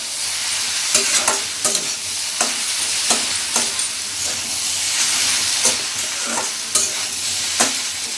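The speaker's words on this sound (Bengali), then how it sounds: "সসটা দেওয়ার পর নুডলসটা আবার কিছুক্ষণ নাড়াচাড়া করলাম।" Egg noodles with hot and sweet sauce stirred in a frying pan: a steady loud sizzle and hiss with regular scraping spatula strokes roughly every second, up close and without speech.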